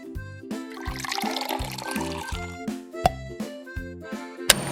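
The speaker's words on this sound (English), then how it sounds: "Let's put some detergent." Detergent pours into a toy washing machine for doll clothes, a soft liquid trickle over a steady rhythmic electronic toy melody with a few sharp clicks.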